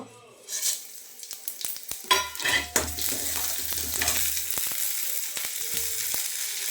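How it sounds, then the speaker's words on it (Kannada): Whole coriander, black peppercorns, cumin, cinnamon pieces, cloves and cardamom fry in hot oil, bursting into a loud close sizzle that settles into a steady crackling hiss with a few spoon clinks. "ಎಣ್ಣೆ ಕಾದ ನಂತರ ಇದಕ್ಕೆ ಒಂದು ಸ್ಪೂನ್ ಧನಿಯಾ ಒಂದು ಅರ್ಧ ಸ್ಪೂನ್ ಪೆಪ್ಪರ್ ಕಾಳುಮೆಣಸು ಒಂದು ಕಾಲು ಸ್ಪೂನ್ ಜೀರಿಗೆ ಒಂದೆರಡು ಚಕ್ಕೆ ಪೀಸು ಒಂದೆರಡು ಲವಂಗ ಒಂದು ಏಲಕ್ಕಿ ಇಷ್ಟು ಹಾಕಿ ಫ್ರೈ ಮಾಡ್ಕೋಬೇಕು"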